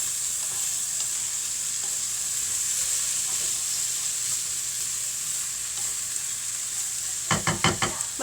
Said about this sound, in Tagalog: Yan, hinahalo ko ng itlog.